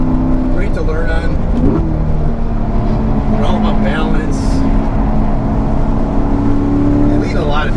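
A Mazda Miata track car idles and warms up on a race track, a steady engine drone with faint revs running throughout beneath someone talking.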